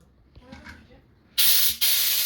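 A sudden loud rush of compressed air blasts into a car tubeless tire with its valve core removed to seat the bead, hissing close for about a second, breaking briefly, then resuming after some quiet handling noises.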